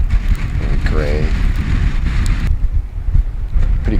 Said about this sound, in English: this is a unpleasantly windy day